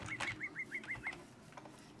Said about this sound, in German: Und Vögelchen gibt es ja auch